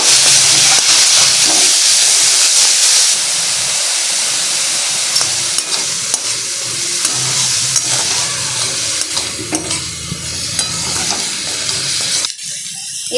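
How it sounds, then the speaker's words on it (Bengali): Chopped tomatoes and dried capsicum fry with salt in a pan, a loud, close, continuous hiss and sizzle with occasional stirring scrapes throughout. "এবার এগুলোকে ভালো করে ফ্রাই করে নেব।"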